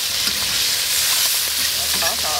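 Ginger and hotpot base stir-fried in a wok for a spicy braised intestine and fish dish, giving a steady loud sizzle with scraping stirs of the spatula throughout, close up and with no talk.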